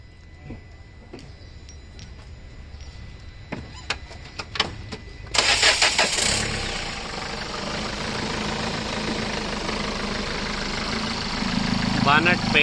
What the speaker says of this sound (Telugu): స్టార్ట్ కరో గాడి.